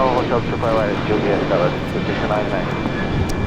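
A plane taking off from runway 25 near Lincoln Boulevard gives a loud, steady broadband jet roar for the whole clip, with people talking over it.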